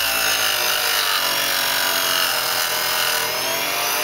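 A mini bench grinder with a flexible shaft buffing a round brass ball with polish, giving a loud, steady high-pitched whine and hum that continues without a break, close by and without talk.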